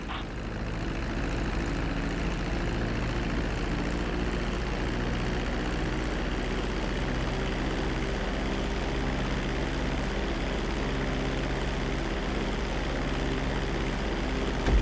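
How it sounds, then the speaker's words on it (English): A plane touches down and rolls along a runway in Grand Theft Auto V, its engine droning loudly and steadily throughout with a constant low rumble and no pauses. "Start reducing the plane's altitude gradually so you're just above the runway as you approach."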